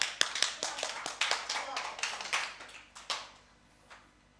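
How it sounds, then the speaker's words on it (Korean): Children at a church Sunday-school service clap to welcome a teacher, a sparse, fairly quiet scatter of individual claps that thins out and fades within a few seconds. "박수로 환영해 주세요."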